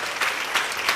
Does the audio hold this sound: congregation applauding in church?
yes